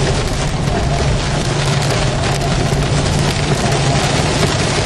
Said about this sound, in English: the rain is kind of coming from west to east. It's coming down at an angle.